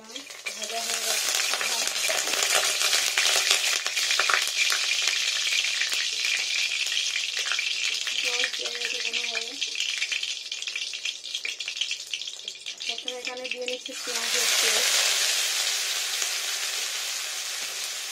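Food fries in mustard oil in a pan with a loud, steady sizzle and intermittent scraping stirs. The sizzle surges louder toward the end.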